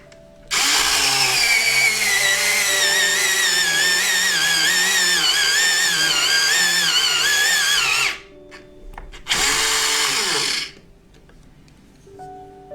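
An electric pencil sharpener grinds a Dixon Ticonderoga pencil in a loud, close, whining motor buzz lasting about eight seconds, then stops briefly before a shorter second burst.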